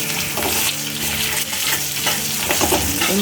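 Sliced onions fry in hot oil in a pan for a tilapia curry, a loud, close, continuous sizzle with stirring scrapes throughout.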